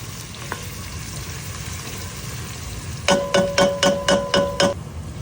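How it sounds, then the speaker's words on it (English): Garlic and onion fry and are stirred in a pan with a steady close sizzle, then a run of seven short, evenly spaced electronic beeps sounds over the frying near the end. "Keep stirring, make sure nothing burns."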